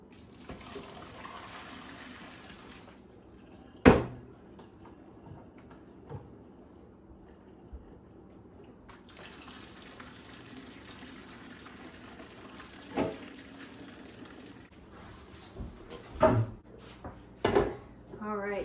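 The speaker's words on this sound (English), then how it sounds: "so I'm going to go ahead and strain these potatoes out" Water from boiled potatoes pours out through a strainer in a kitchen, a steady rushing splash in two long stretches, broken by sharp clanks of the pot and colander.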